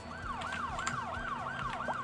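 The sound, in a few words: ambulance sirens in a city builder video game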